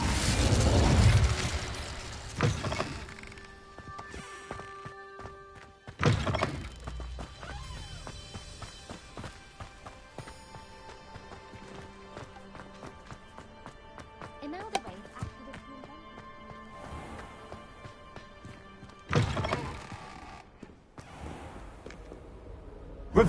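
An Incendio fire spell cast in the game Hogwarts Legacy: a few loud, broad whooshing bursts near the start, around six seconds and near twenty seconds, set over a steady layer of in-game music.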